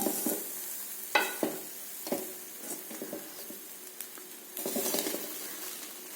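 A pearl millet and black kavuni rice flour puttu mix is stirred in a pan, soft intermittent scraping and light rustling taps at close range, fairly quiet, no talking.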